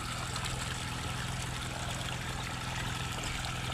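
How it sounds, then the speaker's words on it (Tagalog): Strong water flowing steadily through a farm irrigation channel beside an onion field, a constant broadband rush with no talk over it. "Lakas ng tutubig idol, oh."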